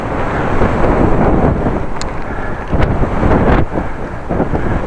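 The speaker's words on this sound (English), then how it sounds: "Mighty big wind." Strong wind buffets the microphone of a bicycle rider out on the road, a loud, continuous roaring rush with gusty swells and no speech.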